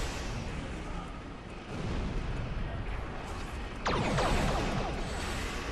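Weapon fire erupts in a Star Trek space combat video game as a torpedo launches, a loud booming blast rising over a rumbling background, with a second sharper burst near the end.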